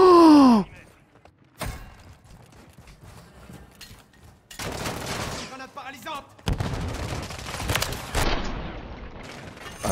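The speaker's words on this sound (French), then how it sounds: "Ça me fait tirer dessus." Gunfire in Call of Duty Warzone comes in sharp, intermittent bursts of varying loudness against a busy game soundscape, with brief voices in between.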